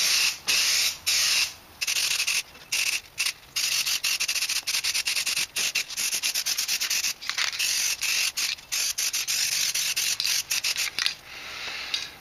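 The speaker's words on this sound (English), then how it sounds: "spray on one light coat, and then only wait about 2 minutes before you spray on the second coat" Repeated hissing bursts from a spray can applying NeverWet waterproof coating, long and short sprays in an irregular rhythm, close and loud with brief pauses between.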